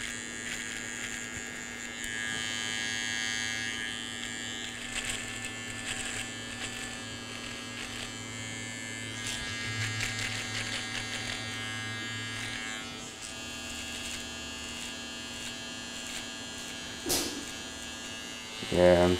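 Electric clippers trim a man's beard in a continuous close buzzing drone that holds steady for most of the stretch, then drops off near the end.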